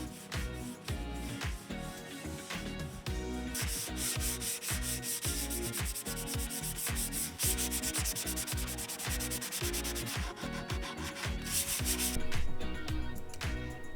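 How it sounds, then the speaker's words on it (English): Rhythmic back-and-forth sanding strokes rasp across spray-painted particle board furniture, steady and close, continuing without pause. "You can really see all of those extra overspray bumps here as I'm sanding"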